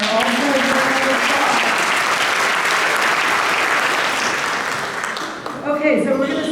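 Students and families at a scholarship award ceremony applaud five all-stars with loud, sustained clapping that tapers briefly near the end before a voice starts speaking.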